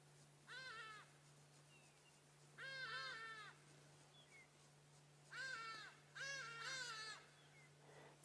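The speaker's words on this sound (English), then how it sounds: "They are called hardy-daws. Very funny name, the hardy-daw. And they've got a very loud call." Harsh, nasal calls of hadeda ibises flying over a safari setting, delivered in four loud bursts of repeated squawks separated by pauses, over a steady low hum.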